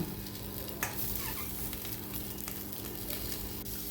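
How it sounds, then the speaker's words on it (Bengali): Onion, green chilli and tomato fry in a pan with a continuous close sizzle, broken by brisk stirring scrapes and a sharper crackle near the start. "এবার দিলাম পেঁয়াজ লঙ্কা টমেটো হালকা করে ভাজলাম"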